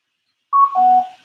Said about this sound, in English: Bluetooth disconnected.